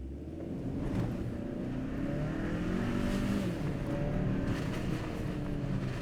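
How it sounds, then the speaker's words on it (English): A 2025 Hyundai Santa Cruz with front-biased all-wheel drive pulls away hard from a standstill in normal drive mode, its engine roaring steadily and loud throughout with rising revs and road noise, no talking over it. "I like to just put my foot really deep into the throttle and feel what the all-wheel drive system does when it loses traction"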